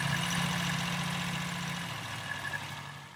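A 1962 Austin-Healey Sprite engine, long stored in a barn, idles steadily close by, a low continuous rumble with a slight uneven pulse that settles somewhat lower toward the end.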